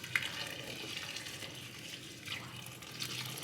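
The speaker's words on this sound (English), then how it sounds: "Let's add some water." Water pours steadily into a cooking pot with a continuous close splashing rush, alongside a faint sizzle and a few small knocks.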